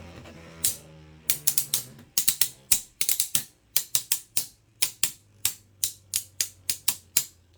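Beyblade Burst QuadDrive tops, including Guilty Luinor L7, launched and clashing in core mode: a quick run of sharp metallic clicks and rattling impacts, close and loud, after a brief low rumble, with no talk.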